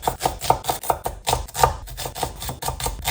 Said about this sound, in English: I'm just going to finely chop 2 onions.